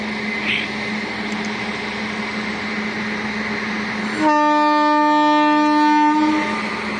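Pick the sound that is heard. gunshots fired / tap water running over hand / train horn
train horn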